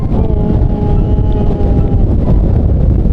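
Loud, constant wind in Iceland, strong enough to make standing hard, rumbling and buffeting the microphone, with a faint steady hum underneath.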